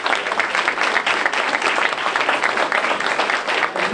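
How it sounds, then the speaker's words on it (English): Audience applause at a town hall event: dense, steady clapping from a large crowd fills the whole stretch at an even level, with no voices rising above it. "You can hold your applause until the end"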